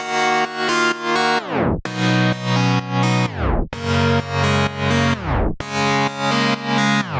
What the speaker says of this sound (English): But I use a tape stop effect for it